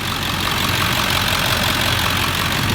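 A 2000 Ford F350 with the 7.3 diesel engine idles steadily, a dense, even clatter and rumble heard up close and continuous, no voices over it.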